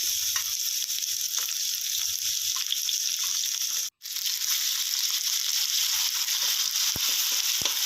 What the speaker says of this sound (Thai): ผัดไปเรื่อยๆนะครับ